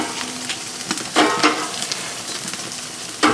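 Thick slab bacon crackles and sizzles over an open fire as it is flipped, with soft scraping and a few sharper pops, close and moderately loud, no talking.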